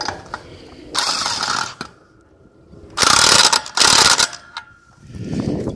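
A DeWalt impact wrench rattles through lug nuts on an old Chevrolet trailer wheel in loud, rapid hammering bursts, one long burst and then two short close ones, with quiet pauses between.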